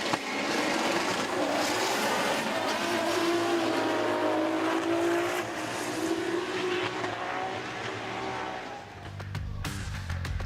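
A drift car at Okayama International Circuit roars past on track, its engine note sustained and wavering as it nearly spins out, loud and steady then easing slightly, with a brief shift near the end and no speech.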